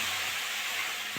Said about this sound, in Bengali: কড়াটা গরম হয়ে গেছে, আমি এবার জল দিয়ে দেবো